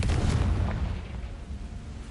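A Confringo blasting curse goes off in Hogwarts Legacy on PS5, a loud, low booming explosion that rumbles and slowly fades.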